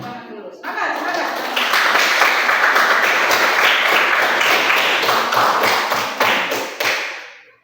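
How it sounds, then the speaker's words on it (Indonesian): A school class claps hands together, a dense burst of rapid overlapping claps lasting several seconds, with voices mixed in, then fading out. "Ya, kita tepuk tangan dulu, ya. Kita tepuk tangan dulu."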